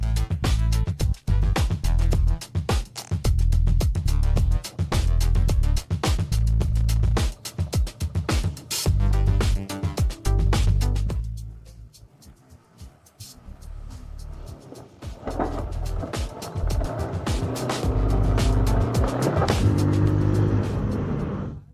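Engine noise from a Haojue DL160 motorbike weaving through traffic in lane-splitting, loud and close, with repeated bursts and buffeting, quieter stretch midway before rising again.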